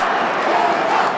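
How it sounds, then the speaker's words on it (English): Home crowd at an Australian football match in 2003, the Saints playing Brisbane, roaring and cheering in a dense, sustained wash of voices with no break. "Hometown crowd getting behind the Saints."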